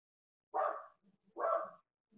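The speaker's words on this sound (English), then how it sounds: "neighbor's dog, and then my dogs." Dogs bark twice, a neighbor's dog and then the household dogs, each a short burst about a second apart, fairly close and loud, with faint low rustling between them and no talking.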